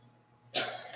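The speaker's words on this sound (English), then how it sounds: "I knew I needed to cough." A single short cough bursts out abruptly after a quiet moment, close and fairly soft, trailing off briefly.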